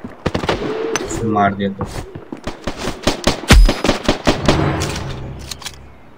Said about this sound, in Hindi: मैं शॉट ले रहा हूँ उसको